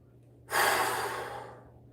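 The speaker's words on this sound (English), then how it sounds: "Anytime that I'm breathing like this" One heavy, breathy exhale during a back, biceps and abs workout, close and fairly quiet, with silence before and after.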